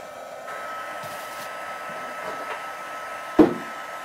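A heat tool drying oil-based archival ink stamped on canvas, a steady hair-dryer-like whir running throughout with a single sharp knock near the end.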